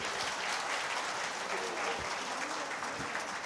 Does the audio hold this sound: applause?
yes